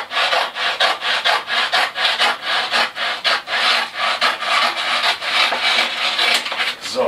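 Sawing through a strip of cardboard-like boat upholstery material, a rapid, regular back-and-forth rasping, loud and close, with no talking.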